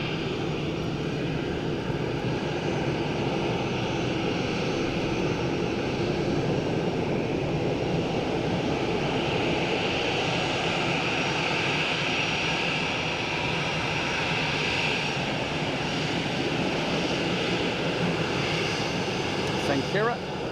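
An Aer Lingus airliner arriving from Toulouse at Dublin Airport produces a continuous jet engine roar that holds steady for about twenty seconds, fairly loud and unbroken throughout.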